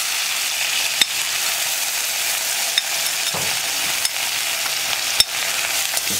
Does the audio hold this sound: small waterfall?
no